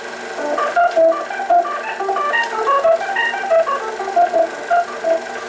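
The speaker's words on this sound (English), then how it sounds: "Here is an organ, just an organ." A dry organ plays a simple melody of sustained notes, close and clean with no room echo, steady and alone.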